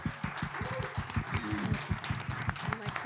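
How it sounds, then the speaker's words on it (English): Audience applause at a roundtable event, a crowd clapping steadily with distinct close claps mixed into the wash, with some voices and low talk running underneath. "Let's give them one more round of applause."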